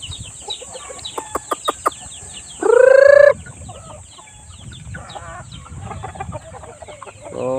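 Chickens at a farm hen coop with laying hens cluck intermittently, with a few sharp clucks early on and a brief loud squawk, over a steady background hum.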